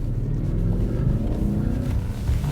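A Volkswagen Phaeton sedan engine at an autocross launch gives a loud, steady low roar that builds slightly as the car pulls away, close up, with no voices over it.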